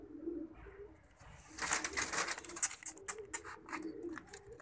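Pigeons coo near at hand in a quiet indoor space, with soft rolling calls repeating in uneven bursts alongside faint rustling and light flutter, and no talk over them.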